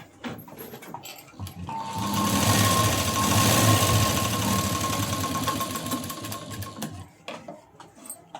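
A sewing machine stitches a sleeve seam in one continuous run of several seconds, a rapid, buzzing mechanical rattle, close and fairly loud, with quiet handling noises before and after.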